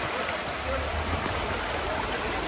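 Floodwater rushes through a flooded street on the Lazarevskoye seafront in Sochi, where cars wade through water; a steady, broad wash of flowing water runs close and loud throughout, with no clear voices over it.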